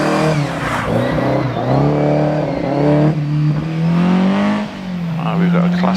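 A rally car with a Fiat-based Abarth engine revs hard on a hillclimb at the Prescott Rallye, its engine rising and falling loudly and close, while a commentator talks over it.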